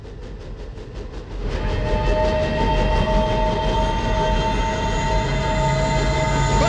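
A train rumbles past nearby, a steady roar of wheels and cars building after a brief lead-in, with a faint metallic squeal ringing above it.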